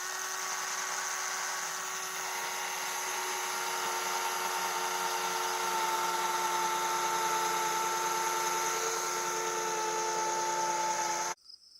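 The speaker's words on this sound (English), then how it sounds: "Let's pre-drill a couple holes so that I don't break this wood." A drill pre-drills holes in reclaimed log wood for a garden bench, giving a steady high whine that holds for about eleven seconds, close and fairly loud, then cuts off abruptly with no talking.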